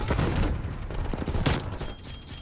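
A suppressed AKS-74U rifle fires a rapid burst in a shooter video game, with quick, close, repeated muffled shots filling the moment.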